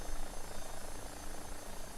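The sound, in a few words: AW-109 helicopter engine in X-Plane 12 video game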